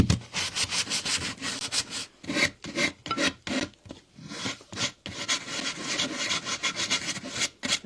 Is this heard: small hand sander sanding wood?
yes